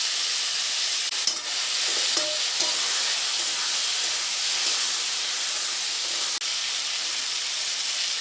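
Eggplant frying in a pan makes a loud, dense, continuous hiss that sounds almost like steam, with only a few faint knocks as spices go in.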